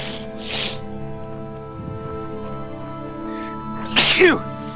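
A sharp, loud human sneeze bursts out near the end, following quiet background music and a brief murmur of talk from people at a gaming session.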